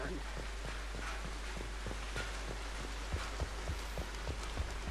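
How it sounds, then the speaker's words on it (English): Rain falls indoors in the Mass Effect 2 video game as a steady, dense hiss with scattered soft thuds and taps underneath, continuous and moderately loud throughout. "Look, it's raining inside."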